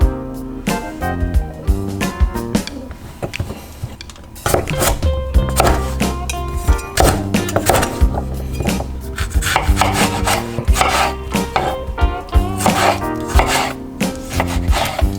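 A kitchen knife chops on a wooden board in quick bursts of sharp taps with short pauses between them, steady and close, with some rolling and scraping sounds mixed in.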